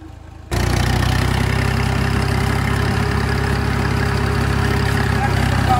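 A tractor engine runs steadily at idle, a loud, continuous low rumble with a rhythmic chug that starts abruptly after a brief quieter moment and holds close by throughout.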